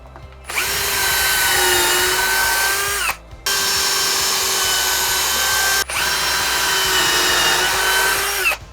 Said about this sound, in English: I'm going to use the drill again to start making some pilot holes.